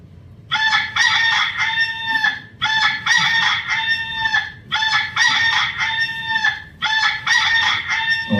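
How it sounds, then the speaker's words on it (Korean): A rooster crows four times in a row, each loud, clear cock-a-doodle-doo separated by short pauses, with nothing else sounding over it. "닭 우는 소리"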